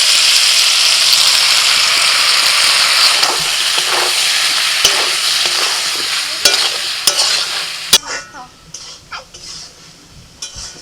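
Mixed vegetables sizzling loudly in a pan while being stirred with ginger paste, cumin, chilli, turmeric and salt, the spoon scraping and clattering as the hiss fades toward the end.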